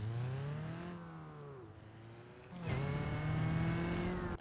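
In the BeamNG game, a Gavril Spitfire truck with 300 horsepower, all-wheel drive and a Covet engine revs hard, its note rising, dropping briefly at a shift, then climbing again, loud and close with no voices.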